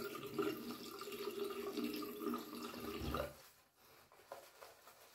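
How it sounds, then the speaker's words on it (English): Tap water runs steadily while water is added to a shaving soap lather during a wet shave with a Parker semi-slant razor, then cuts off abruptly, leaving faint drips and small clinks. "Loads of water there."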